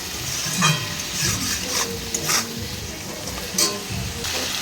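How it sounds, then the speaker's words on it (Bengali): Prawns fry in oil in a pan, a steady close sizzle with spatula stirring scrapes at intervals, no voices. "চিংড়ি মাছটা একটু ভেজে নেবো"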